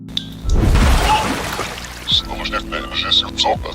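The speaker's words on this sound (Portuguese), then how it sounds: "dá pra ouvir um barulho de água. Mais especificamente de algo sendo jogado da água" Something thrown into water makes a close, rushing splash that lasts about a second, followed by softer watery sounds mixed with faint voices.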